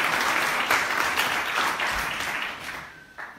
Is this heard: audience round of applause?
yes